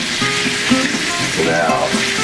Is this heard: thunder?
no